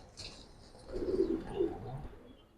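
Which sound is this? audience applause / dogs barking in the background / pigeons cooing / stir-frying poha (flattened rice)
pigeons cooing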